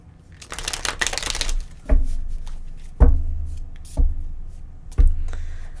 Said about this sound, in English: I'm going to go ahead and just shuffle these and pull them from the top